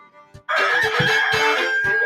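A rooster crows loudly and close indoors in a kitchen, one long strained cock-a-doodle-doo with rough, clucking pulses through it, alone without talk.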